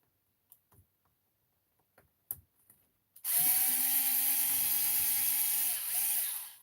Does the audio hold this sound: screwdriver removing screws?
yes